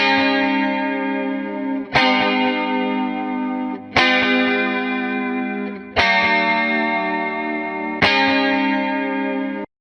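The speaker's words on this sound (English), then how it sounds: "Let's say you have a funk guitar track." A distorted funk guitar track with reverb and delay sounds five strong, evenly spaced strummed chords roughly every two seconds, each ringing out and decaying before the next hit, loud and alone.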